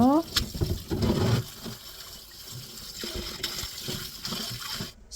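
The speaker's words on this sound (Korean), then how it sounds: "이렇게 요거는 버려주시고 다시 한 번 더 헹궈 주세요." Salted seaweed stems rinsed in water in a kitchen, with water sloshing, splashing and trickling unevenly throughout, louder in the first second and a half.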